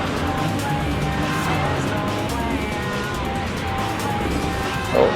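Race cars, among them a Mercedes and a Porsche, roar through a Nürburgring 24-hour race in a driving game, a loud, continuous engine drone with shifting pitch.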